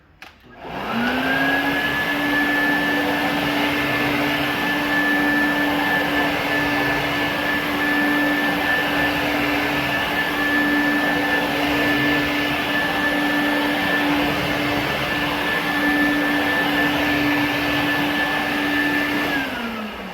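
Quantum upright water filtration vacuum cleaner spins up and runs at a loud, steady roar with a sustained motor whine, then winds down at the end.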